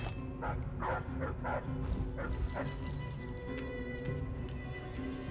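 A dog in the game Dishonored: Death of the Outsider gives a run of short barks and yips in the first half, then whimpers faintly over a low rumbling game ambience.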